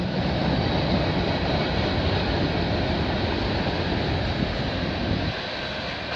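CN/CP train 397 passes close by in Milton, Ontario, on an early Saturday morning, a loud continuous roar and rumble of rolling cars that eases slightly near the end.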